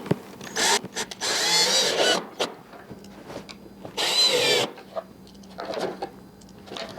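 A power drill driving 5/8 wood screws into 3/4 inch plywood: several loud whirring bursts of a few seconds each, separated by short pauses and small clicks, close by.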